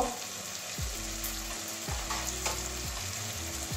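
Tomato spice paste sizzles steadily in a pan for an egg, cabbage and carrot curry, with a spatula scraping and stirring in a few rhythmic strokes over the constant frying hiss.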